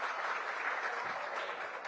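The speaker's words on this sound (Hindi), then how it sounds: "मैं चाहूंगा जोरदार तालियों से स्वागत करें राहुल देव साहब का" Steady applause from an audience at a government district event in Mungeli, Chhattisgarh, welcoming the district collector, fairly faint and even throughout.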